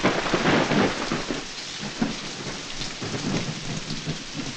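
Steady heavy rain pours throughout, a dense broadband hiss with drops pattering on a surface, near and loud, with no voices.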